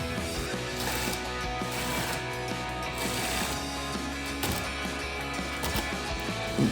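A ratchet clicks as it tightens screws on the chin spoiler of a 2024-2025 Mustang GT, a steady mechanical whirring and clicking up close.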